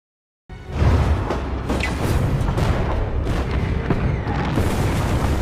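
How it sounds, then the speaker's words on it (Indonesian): Artillery firing on Soviet trench positions in a WWII German attack, a loud booming barrage starting abruptly and rolling on with repeated blasts and whooshes. "artileri langsung ditembakkan."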